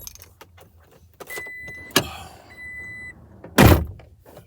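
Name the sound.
power car windows going down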